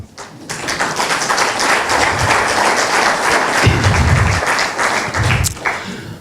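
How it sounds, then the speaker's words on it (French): A conference audience at an Alstom Power colloquium on operational excellence gives a dense, loud round of applause that rises quickly, holds for several seconds with scattered thumps, then thins out. "je pense qu'elle mérite vos applaudissements"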